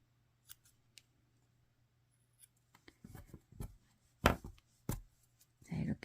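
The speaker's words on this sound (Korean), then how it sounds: "실을 잘라 줄게요." Scissors snip yarn while a heart-shaped bag is crocheted: a few faint clicks at first, then several crisp, close cuts and handling noises that grow louder toward the end. No talking.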